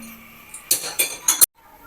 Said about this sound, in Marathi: दुसरा जो तवा आहे तो पुन्हा गरम करायला ठेवला आहे